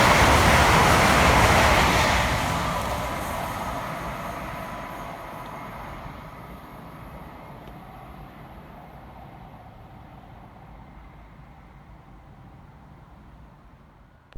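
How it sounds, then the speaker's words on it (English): An Avanti West Coast train, unit 805001, races through Wolverton station, a loud rushing roar that peaks early and then fades steadily into a lingering rumble as it recedes, with no talk. "Next to fly through the station for Avanti West Coast is 805001, working 1 Delta 86 from London Euston through to Chester."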